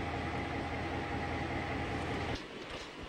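A train on the Forsayth line in Queensland rumbles past with a steady low rolling drone, then drops abruptly to a quieter rattle near the end, with no voices.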